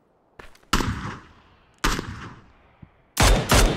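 PUBG gunfire on the Miramar desert map, several sharp loud shots in separate bursts with a brief rapid pair at the end, each decaying quickly, with no talk over them.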